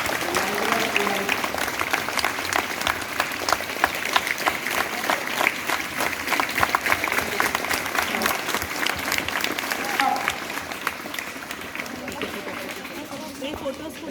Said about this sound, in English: let us give a hearty clap to Professor